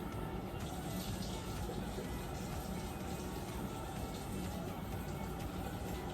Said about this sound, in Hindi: मैं इसे अब धो लूंगा पानी से